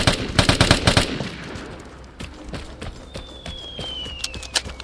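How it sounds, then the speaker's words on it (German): Bursts of automatic gunfire from the opposing side in the video game Vigor, rapid clustered shots loud at first, then scattered single cracks and a faint high whine over quieter background. "Von der anderen Seite geschossen"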